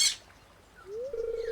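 A bird squawks in the video game Stardew Valley, beginning with a sharp, loud burst and then sliding into a rising whistled tone that holds steady, alone and close.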